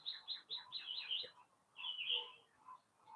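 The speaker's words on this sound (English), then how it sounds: "I hope you can hear some of the bird song. It's the native bird song, not just the neighbor's chickens." Native wild birds sing in a garden with chirpy, repeated high tweets in quick bursts, a pause, then another bright warbling phrase, moderately distant and fairly quiet.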